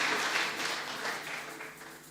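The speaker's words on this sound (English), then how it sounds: "Let us clap for them" Audience applause at a county procurement congress, a steady wash of many hands clapping that holds for a couple of seconds and gradually tapers off, with no talk over it.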